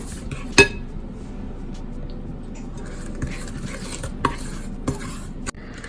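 Curd and sugar being stirred together in a bowl for an eggless vanilla milk-cashew cake batter, a steady close scraping swirl with a few sharp clinks of the spoon against the bowl.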